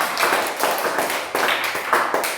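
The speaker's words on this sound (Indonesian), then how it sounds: "Tepuk tangan buat teman-teman mereka" A group of schoolchildren clap for their classmates in a few uneven bursts of hand claps, close and moderately loud, with short pauses between the bursts.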